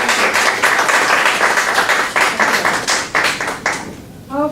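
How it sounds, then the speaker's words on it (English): Warm applause from an audience at a teachers' workshop, loud and close with uneven individual claps, fading out near the end. "I will ask you to give her a warm applause"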